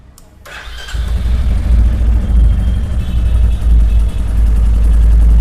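A second-hand Royal Enfield Bullet motorcycle, a late-2024 bike with about 10,000 km on it, cranks and catches, then settles into a deep, steady, loud idle thump close by.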